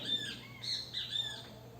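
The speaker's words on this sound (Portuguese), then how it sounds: "Os pássaros cantando." Birds give a few quick, high chirps and squawks close together, moderately loud over a steady low hum, with no voices.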